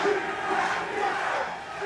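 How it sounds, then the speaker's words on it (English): An esports arena crowd at the Champions Tour 2024 Masters Madrid match between Sentinels and Team Heretics roars and cheers in a dense, continuous wall of noise, with no distinct speech on top. "Yeah, the crowd getting involved now."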